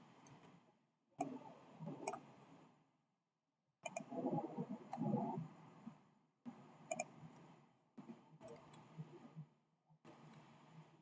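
Sharp, isolated computer mouse clicks while shapes are drawn in Adobe Illustrator, spaced irregularly among low background rustle and short silent gaps, fairly faint and close.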